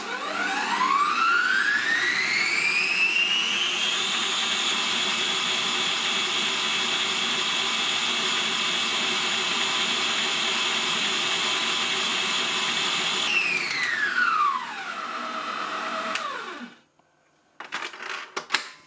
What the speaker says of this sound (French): On va tenter des blancs en neige avec 2 blancs d'œufs, une pincée de sel, et c'est parti.